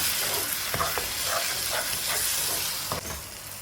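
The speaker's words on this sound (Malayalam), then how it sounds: "പൊതിനയും ചേർത്തിട്ട് നന്നായി ഒന്ന് മിക്സ് ചെയ്ത് കൊടുക്കുക" Mint and coriander leaves are stir-fried in a hot pan for biryani masala, with a steady loud sizzle broken by several soft scraping stirs, close and without talk.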